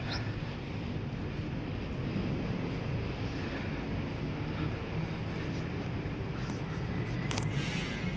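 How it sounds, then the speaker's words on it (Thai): A gentle breeze blowing across the upper floor of the Loha Prasat temple makes a steady, soft broadband rush of wind that runs evenly through the whole stretch, with no talking over it. "ากาศไม่ร้อนนะครับ มีลมเอื่อยพัดมาด้วยนะฮะ"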